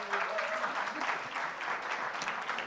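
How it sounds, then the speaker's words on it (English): Audience applause for a filmmaker after a film discussion, a dense, fairly close patter of clapping from a modest crowd lasting a few seconds. "Another loud round of applause for Somnath, please."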